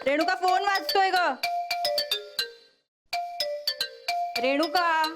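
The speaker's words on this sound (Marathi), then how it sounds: "रेणुका फोन वाजतोय ग." A mobile phone ringtone plays in a home, a melodic repeating tune of bright tones that stops briefly and then starts again, with a woman calling out over it.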